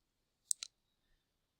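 A computer mouse clicking while someone navigates a website: two quick, sharp clicks close together, then a faint tap, all against near silence.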